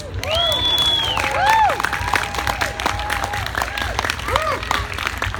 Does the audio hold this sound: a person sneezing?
no